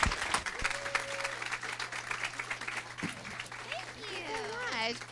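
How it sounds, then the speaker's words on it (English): Audience applause for two presenters at a university social media week talk, a steady wash of clapping with voices and cheers rising through it, a tone briefly sounding early on. "let's give both of our presenters a round of applause"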